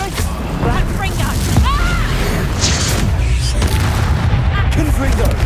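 Spell blast from Confringo in Hogwarts Legacy, played as a dark wizard, with booming explosions amid combat noise and chatter, a loud, steady crackle of magical impacts throughout.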